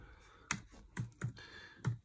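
Keystrokes on a computer keyboard while renaming an item in scene editing software, four distinct clicks spaced irregularly over about two seconds, close and fairly quiet with no talking.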